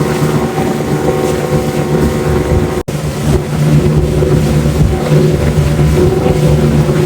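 A motorboat crosses the Atlantic near the Panama islands. Its engine drones loud and steady throughout, with wind buffeting the microphone and one brief dropout midway.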